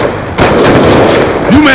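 Sticky grenade blast in a shooter video game, a loud burst of crackling, popping noise that fills the short clip from about midway, with a voice briefly heard near the end.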